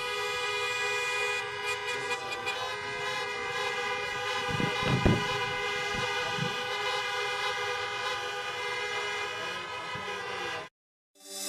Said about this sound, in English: I can hear you honk your horns again